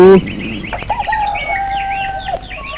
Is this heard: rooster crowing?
yes